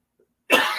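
A single harsh cough bursts in after a brief silence, loud and close.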